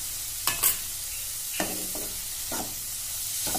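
Spices are stirred and lightly fried in a pan: a soft steady sizzle with several scraping stirs of a spoon at irregular intervals, close and moderate in level.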